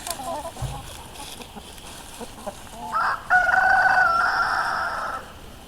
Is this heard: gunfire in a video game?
no